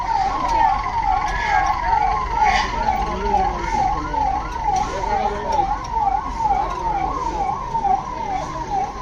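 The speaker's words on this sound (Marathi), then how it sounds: "यानंतर एकशे आठ रुग्णवाहिका" Ambulance siren wailing steadily in a repeating up-and-down cycle at a Republic Day parade at a police headquarters, loud and continuous with faint crowd and announcer murmur underneath.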